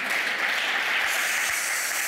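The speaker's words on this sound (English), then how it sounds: "Give yourselves an applause for being at the right place at the right time." Steady, dense applause from a live audience at an annual awards ceremony, a continuous wash of many hands clapping at fairly close range with no break and no voices over it.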